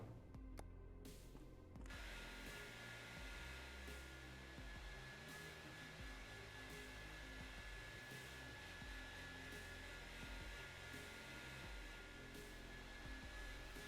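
A hair dryer runs steadily and loud throughout, a constant whooshing motor blast with a brief louder flutter at the very start, used while painting.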